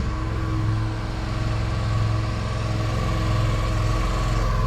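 A gas-engine pressure washer runs close by while rinsing a fence, its engine a steady loud droning rumble with a constant low pulsing throb, with no voices.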